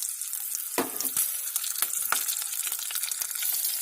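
Chopped green chillies drop into hot oil with black cumin, bursting into a loud sizzle and sharp crackling pops that settle into a steady fry.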